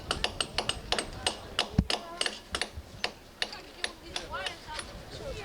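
Chisels and hammers striking the concrete of the Berlin Wall in 1990, giving a steady run of sharp metallic taps and knocks at close range over outdoor crowd murmur.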